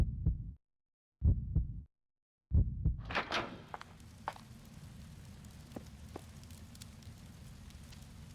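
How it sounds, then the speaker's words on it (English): Heartbeat in the video game Resident Evil Outbreak, a few deep, close double thumps separated by silence, then a steady crackling rumble with faint clicks takes over. "Busy vibing to the heartbeat."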